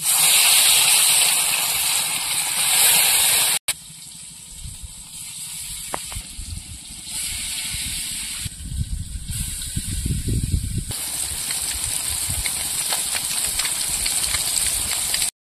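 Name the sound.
fish frying in oil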